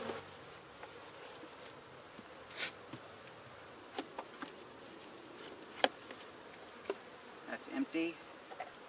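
Honey bees hum and buzz quietly inside a horizontal beehive with many queen cells, a faint steady drone broken by brief close passes and small taps.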